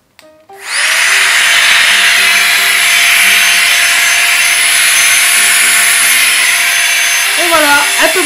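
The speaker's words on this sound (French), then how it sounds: "je vais pouvoir utiliser la mini pompe" A small electric mini pump starts abruptly and runs at a loud, steady high-pitched whine while inflating a camping pillow, then stops as a voice begins speaking at the very end.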